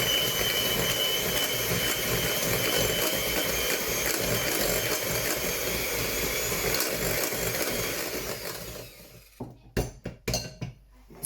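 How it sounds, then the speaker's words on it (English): An electric hand whisk runs steadily, combining butter, sugar and egg for a treacle sponge, its broad continuous whirr holding until near the end, when it cuts out and a few clinks of a bowl follow. "I'm just going to use my little electric hand whisk and just gently combine the butter,"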